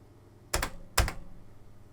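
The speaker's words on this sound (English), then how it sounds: "keyboard's all working." An Amstrad CPC computer keyboard being typed on: two sharp, close keypress clacks about half a second apart, each a brief burst, with near silence between and after.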